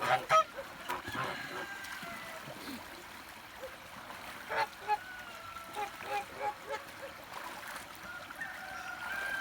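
Kholmogory geese honk repeatedly on water by a stream in a fairly quiet outdoor setting, a series of nasal calls with running water faintly in the background.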